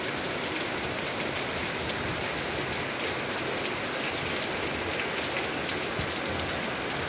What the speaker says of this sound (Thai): วันนี้ฝนตกเลยถ่ายบรรยากาศมาให้ชมค่ะ